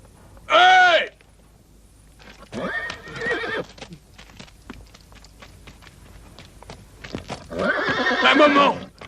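Horses whinny loudly in a couple of separate bursts, with hooves clip-clopping on the ground between them.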